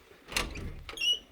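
A door in a house is opened, giving a short creak and rattle with a brief bump at the start and a slide near the end, heard close and moderately loud.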